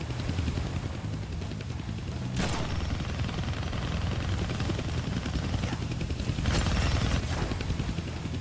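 A helicopter in the video game Deadpool thrums with a steady, loud rotor chop throughout, joined by a couple of sharp bursts of impact or gunfire and a high whining tone rising and falling.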